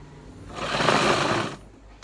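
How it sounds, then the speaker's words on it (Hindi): A sewing machine runs a quick burst of stitching for about a second, sewing a half-inch seam on a palazzo pant leg; the whirring motor is close and steady, with quiet before and after. "ये आसन पकड़े और लगा दी सिलाई 1/2 इंच पैर पे"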